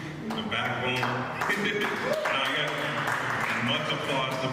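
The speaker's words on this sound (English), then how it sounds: "Much applause to Patricia, dancer, poet, organizer of move" Audience applause at a live music festival performance, steady dense clapping sustained through the whole stretch, with some voices mixed in.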